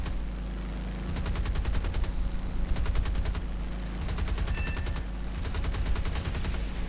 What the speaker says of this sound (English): A little bit of fire coming from his rear gunner